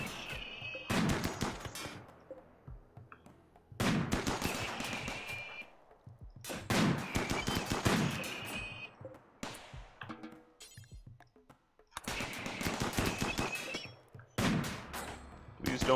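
Gunfire during combat in the video game RimWorld, several loud bursts of rapid shots spread over the span and separated by brief quiet gaps, with some shots heard on their own between them.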